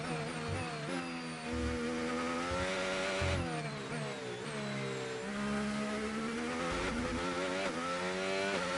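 An F1 car engine screams in F1 25 as it launches off the race start, a loud, steady high-pitched whine rising through the gears with quick dips at each upshift, close and continuous, with no talking.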